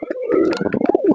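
Pet lakkha (fantail) pigeon cooing up close, a run of soft, throaty rolling coos with a steady pulsing rhythm over about a second, with no voices.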